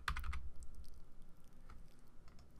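A computer keyboard is tapped while nudging shapes into position in CorelDRAW, with a quick cluster of key taps at the start followed by sparse, faint clicks over a quiet room hiss.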